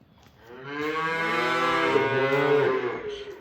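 A single long, drawn-out moo from a calf close by, rising and holding steady for about three seconds before fading.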